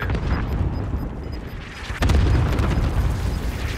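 Airstrike in the shooter Warzone on Rebirth Island, a heavy, close blast that lifts an already dense rumbling battle din into a sustained roaring boom.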